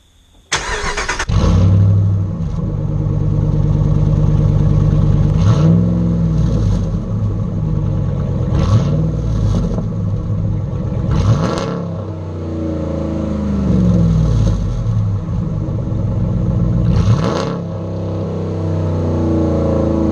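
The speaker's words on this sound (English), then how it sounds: "So 3-inch straight piped Hemi sounds fantastic." Hemi truck engine with a 3-inch straight-piped exhaust starts with a sharp burst, then idles with a deep loud rumble broken by several aggressive revs that rise and fall, close up with no talking.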